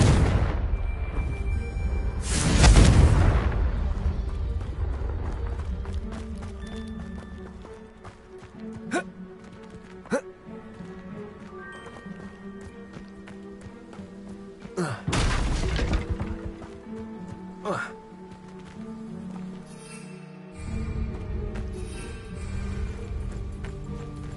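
A Confringo spell blast in Hogwarts Legacy bursts loudly near the start, followed by a lingering rumble and crackling debris, then a second sharp blast midway, with a hum running underneath.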